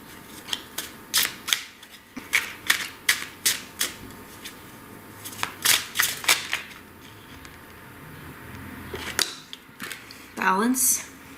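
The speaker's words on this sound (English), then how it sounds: "I'm gonna grab an oracle card now from the Prism oracle deck." A deck of Prism oracle cards is handled and shuffled close up, making a run of crisp snapping clicks in rhythmic clusters, with a voice speaking at times.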